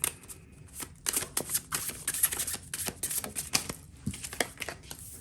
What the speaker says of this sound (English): These are freaking a little bit harder to shuffle sometimes.